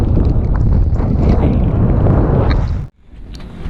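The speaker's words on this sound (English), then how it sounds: "it got up to 46 knots of wind" Strong wind of about 40 knots roars over a sailboat at sea on the passage from Bermuda to Lunenburg, a loud, dense rush that briefly drops off before gusting back.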